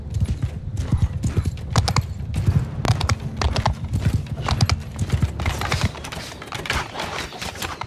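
Horses gallop in a Crusader Blade mod battle, with loud rapid hoofbeats, occasional whinnies and scattered gunfire-like cracks throughout.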